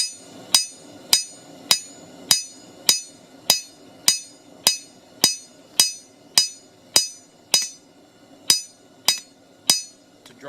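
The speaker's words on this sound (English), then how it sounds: "You want your hammer strikes to be nice and even." Steady hammer strikes drawing out metal into a leaf shape on an anvil: around seventeen bright, ringing clinks in even rhythm, close and prominent, with no voices.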